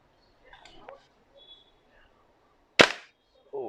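A single sharp crack of a WE M4A1 airsoft gas blowback rifle firing on semi-auto, brief and close, preceded by faint murmured talk and small handling clicks, with another short noise right after.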